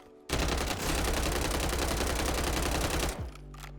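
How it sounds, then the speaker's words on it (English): Striker submachine gun in Warzone firing with no attachments: one loud sustained burst of rapid automatic shots lasting about three seconds, then abrupt silence. "this is the bare bones striker, and this is how it reacts as far as recoil goes before ever putting any attachments on it."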